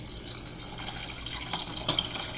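Water runs steadily from a tap into a pot holding pork bones, a continuous splashing fill as the stock is started for tonkotsu ramen broth, close and unbroken, with no talking.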